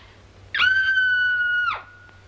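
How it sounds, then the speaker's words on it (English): A woman lets out a single loud, sustained high-pitched scream in a 1941 film scene, rising sharply, holding steady for about a second, then cutting off, with quiet room tone before and after. "I'm so nervous I could scream. In fact, I think I will."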